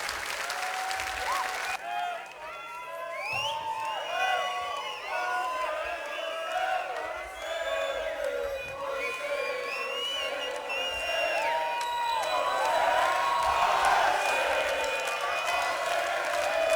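A large audience claps and cheers with whoops and shouts, loud and continuous throughout and swelling toward the end, after a brief quieter dip near the start.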